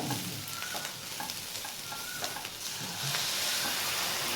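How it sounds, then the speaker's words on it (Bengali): Water splashes into bitter gourd frying in oil, setting off a loud, steady sizzle with scraping stir strokes that swells toward the end; no voices. "এই সামান্য একটু জল দিলাম হাফ কাপের মতো"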